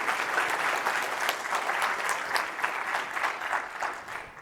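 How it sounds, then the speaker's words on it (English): A large conference audience at a JavaScript keynote claps in a big, sustained round of applause, dense and even throughout with no voices over it. "So if we could just do a really big round of applause for all of them."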